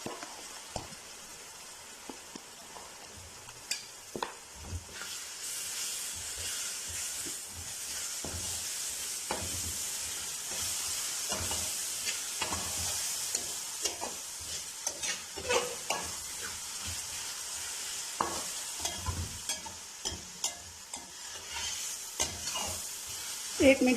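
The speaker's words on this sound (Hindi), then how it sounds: "एक मिनट के लिए अदरक लहसुन के पेस्ट को भूनेंगे अच्छी से" Ginger garlic paste fries in hot oil for a fish masala curry, giving a steady close sizzle and hiss with frequent sharp scraping clicks as a spoon stirs it around the pan.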